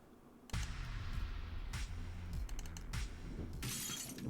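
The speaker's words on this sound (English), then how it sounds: "The sound of shattering glass tears through the static of the rain." In the video game Celestial Return, glass shatters with a sharp crash amid rain, followed by scattered tinkling and clattering fragments, loud and close.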